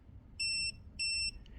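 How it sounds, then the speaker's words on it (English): An Arrma Vorteks BLX 223S 2WD RC car gives two bright, clean electronic beeps on power-up to show its DSC mode, each about a third of a second long, close and distinct over a quiet background. "beeps to let you know what DSC mode it is right out the gate"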